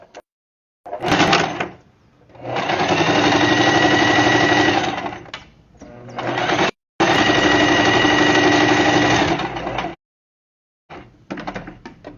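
A sewing machine stitches the layers of a diaper holder in two long, steady runs of close, loud mechanical whirring. The runs are separated by brief pauses, and shorter bursts come at the start and end.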